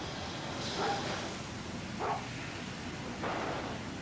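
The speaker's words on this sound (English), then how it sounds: "You mark that dog's voice." A dog barks faintly in the distance at night near the Mississippi River: three short, separate bursts spaced a second or so apart over a quiet, hushed background.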